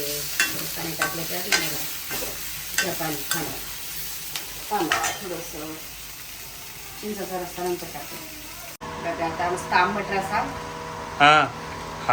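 Food frying in a pan in a home kitchen, steady sizzle with repeated stirring scrapes and clatters, while a person talks over it intermittently.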